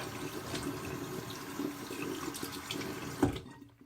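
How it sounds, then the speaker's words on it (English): Running water from a tap during a wet shave with a 1958 Gillette Fatboy safety razor, a steady close splashing wash that swells briefly near the end before cutting to silence. "I'm gonna rinse off."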